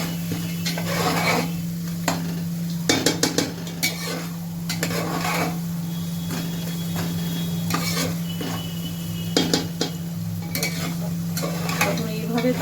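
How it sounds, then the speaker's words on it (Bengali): Masoor dal (bhaja dal) frying and being stirred in a pan, a steady sizzle running under repeated scraping and clinking strokes of a spoon against the metal, close and fairly loud, with no talking. "এটাকে আপনি ভালো করে ভাজবেন, কারণ এর নামই ভাজা ডাল।"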